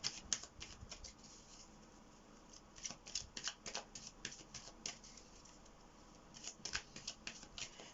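Tarot cards are drawn and shuffled from a deck, giving quiet, close bursts of papery flicks and snaps in irregular clusters over a hushed room.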